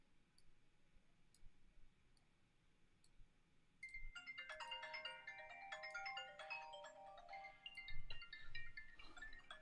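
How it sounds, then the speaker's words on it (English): A mobile phone ringtone starts suddenly in a barbershop, a bright electronic melody of repeating tones that plays on, fairly close, after a quiet lead-in with faint clicks. "Sorry about that phone."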